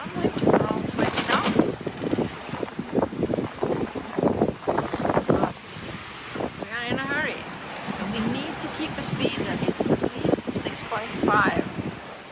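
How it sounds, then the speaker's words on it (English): Strong wind of about 20 knots buffets an offshore sailboat sailing under jib, with gusty rushing noise and water sounds, while people talk intermittently. "As you can see, it's quite a lot of wind, around 20 knots."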